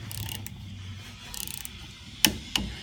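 Set screws on a bushing tighten against a pulley for a CF-120 diesel pump, giving faint ratcheting and scraping, then two sharp metallic clicks near the end.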